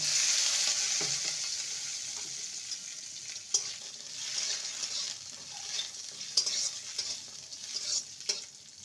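Cashews and almonds fry in hot ghee in a kadai, a steady bright sizzle running throughout with occasional soft stirring scrapes and clicks close by, no voices.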